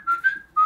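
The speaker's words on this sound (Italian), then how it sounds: "ci fischietterà una canzone" A person whistles a short snatch of a song, a clear, bright tune with two quick phrases separated by a brief pause, close and alone.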